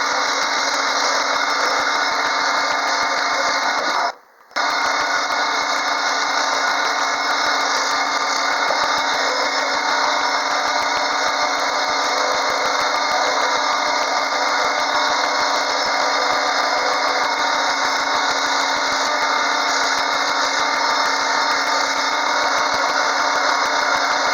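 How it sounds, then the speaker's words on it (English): Wood lathe spinning a deer antler pen blank as a spindle gouge cuts it, a loud steady motor whine with harsh scraping grind, briefly cutting out for a moment before resuming, no voices. "Going to be using the largest spindle gouge just to kind of curve everything over, give it a nice shape that feels comfortable in the hand."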